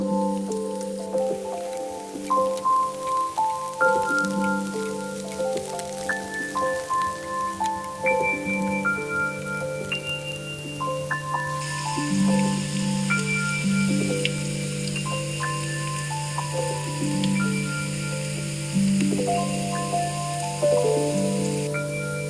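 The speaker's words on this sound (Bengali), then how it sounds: "আমি আর একটু এপাশ ওপাশ করে ভেজে নিচ্ছি" Onions frying in hot oil for a Ramadan iftar dish, a steady soft sizzle and crackle running continuously beneath background music, moderately close.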